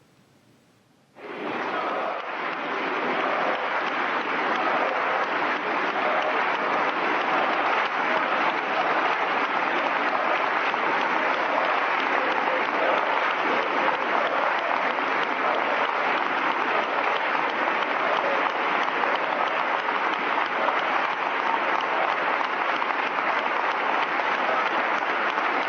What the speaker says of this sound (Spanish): Es la mayor ovación del Congreso de los Diputados en los últimos 5 años.